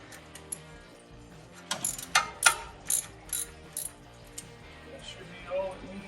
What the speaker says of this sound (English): just loosening off the alternator belt now